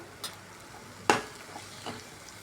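Ground masala paste with turmeric frying in hot oil in a pan, a faint steady sizzle broken by a sharp stirring scrape near the middle and a softer one later.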